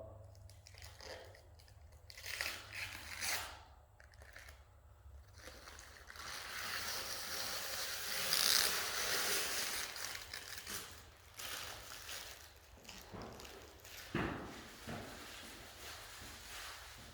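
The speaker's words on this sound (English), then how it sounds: "we're gonna let you see me peeling this off" Protective film peeled off Boost Auto S-Series cab lights for a 2001–07 Chevy Silverado or GMC Sierra: a long, steady crackling rustle that swells and fades, with a sharper tearing snap near the end.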